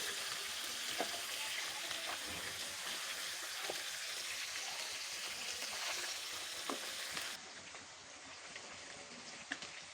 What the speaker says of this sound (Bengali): মাছগুলি বেশ বড় পিস হয়েছে, এগুলি আমি 2 গ্যাসে ভেজে নেব